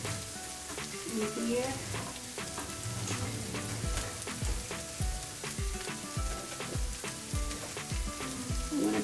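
Hot charcoal placed in a pan of dum ka keema sets off loud, continuous sizzling and spattering with a dense crackle of pops, close up, while a voice speaks briefly.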